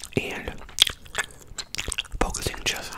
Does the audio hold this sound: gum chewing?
yes